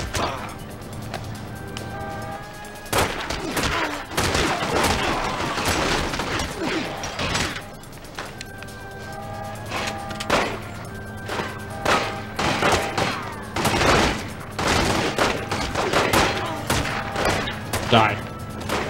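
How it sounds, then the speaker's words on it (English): Gunfire rattles through a mob shootout in The Godfather: Part II video game, repeated bursts and single sharp shots mixed with crashes and thuds, loud and close, with someone talking over the action. "Why are they shooting at me?"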